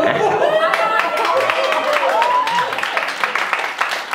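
A stand-up comedy audience claps loudly and steadily, with scattered cheers and chatter mixed into the applause.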